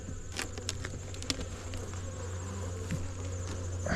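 Honey bees buzzing around an opened beehive during a late-summer inspection, a close, continuous drone with scattered flyby buzzes and small clicks of handling.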